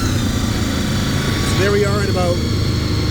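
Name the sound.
Honda VFR 800 motorcycle engine starting and revving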